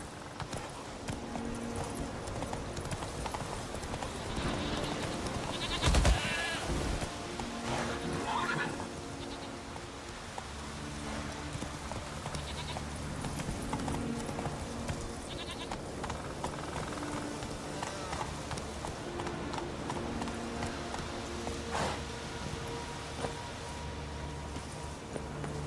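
Horse hooves clip-clop at a gallop in The Witcher 3, a continuous rhythmic pounding with occasional whinnies and game music underneath.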